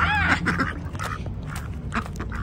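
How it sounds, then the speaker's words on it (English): Ducks quack excitedly at morning feeding time, several close, loud overlapping calls at the start, then scattered quacks continuing over a steady background for a couple of seconds. "This is what my duckies do in the morning when I come out to feed them."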